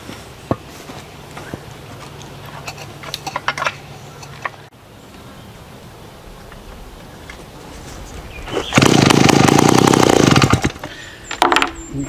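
A vintage small chainsaw is primed and fired up. A few sharp pulls and rattles come first, then the engine catches near the end and runs loud, with a harsh, snappy roar before it drops away.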